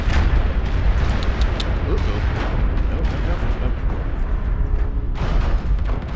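Artillery strikes in MechWarrior Online give a continuous heavy low rumble of explosions, with sharper bursts early on and a faint voice partly underneath.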